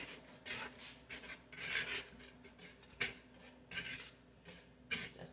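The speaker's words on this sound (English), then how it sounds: "I'm just going to whisk this all together." Dry biscuit ingredients, flour, sugar and baking powder, get whisked together in a bowl: quiet, repeated scraping and rubbing strokes in an irregular rhythm, close by.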